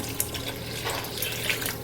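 Water pours steadily into a cooking pot of simmering chickpea curry, a close, continuous splashing stream lasting just under two seconds with no talk over it.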